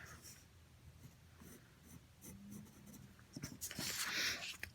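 An eraser rubs over a pencil drawing of a goldfish in quick, scratchy strokes, faint at first and growing louder and denser near the end, with no talking.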